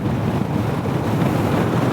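Strong wind roars steadily across the open salt desert of the Rann of Kutch in Gujarat, a loud continuous buffeting rush with heavy gusting rumble on the microphone and no voices.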